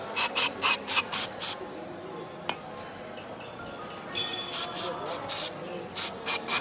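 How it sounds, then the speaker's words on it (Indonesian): Sandpaper rubs against the inner edge of a fuel-injected motorcycle part in quick back-and-forth strokes, coming in rhythmic bursts with a short quiet pause in the middle. "sesekali membersihkan pinggiran bagian dalam ini menggunakan amplas"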